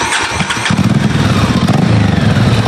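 A motorcycle engine cranks and catches, then settles into a loud, close, throbbing idle with a steady pulsing beat and no voices over it.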